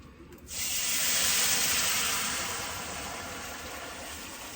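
A loud, steady sizzling hiss bursts in suddenly and holds, slowly easing off, as hot water from a kettle hits a very hot skillet and boils hard.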